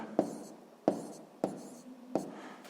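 A pen writes a decimal fraction by hand on paper, four short scratchy strokes evenly spaced, close and quiet with nothing else around them.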